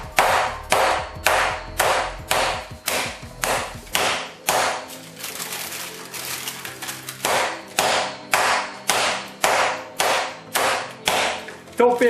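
Chicken is flattened by repeated whacks with a heavy flat-bottom pan, a loud close series of thuds, evenly spaced and rhythmic, with a short pause of lighter rustling midway before the strikes resume.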